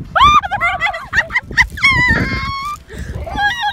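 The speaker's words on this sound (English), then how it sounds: "We're about to feed crackers to the seagulls!" Seagulls at a beach being fed crackers, loud close squawks and cries in quick bursts, with excited voices mixed in.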